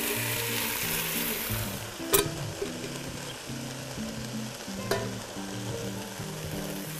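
Beef teriyaki sizzles and crackles in a hot pan as it is stirred and reheated with earlier-fried pieces. The frying is steady and moderately quiet, with a couple of sharp scraping clinks from the utensil and no voices.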